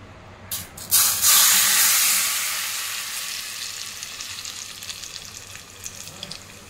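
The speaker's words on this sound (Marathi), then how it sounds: "तेलाचा छान तडका दिलेला आहे, छान ठेचा झालेला कैरीचा" Smoking-hot oil tempering poured over crushed raw mango thecha bursts into a loud, close sizzle after a couple of small clicks, then settles into a long, gradually fading hiss with no voices.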